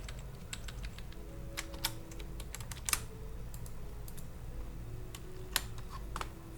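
Typing on a computer keyboard while editing HTML code: scattered soft key taps with a few sharper clicks over a low steady background hum, faint and without talking.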